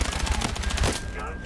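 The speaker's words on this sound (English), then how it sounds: "I shot him and it was full auto, and for some reason my bullets had no effect." Full-auto gunfire rattles in a rapid, steady burst in a shooter video game, dense and fairly loud, then cuts off abruptly with a brief tail.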